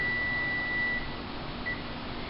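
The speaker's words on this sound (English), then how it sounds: "first she will turn off the timer" A kitchen timer sounds as cupcakes finish baking: one long steady electronic beep, then a brief second chirp, over constant background hiss with no talking.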